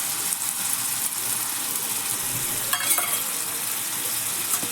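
Poppy seeds go into a pan of pumpkin for kumro posto, and the pan fries with a steady close sizzle and a brief crackling scrape partway through.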